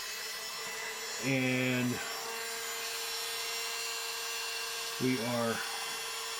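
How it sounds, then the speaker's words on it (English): A big cordless Dremel slowly removes material from a G&L ASAT electric guitar in two short, whining bursts separated by a quiet gap. A voice speaks briefly between them. "what we're doing is using the big Dremel, the big cordless Dremel,"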